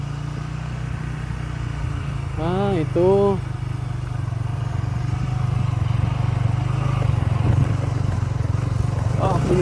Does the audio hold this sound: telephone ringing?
no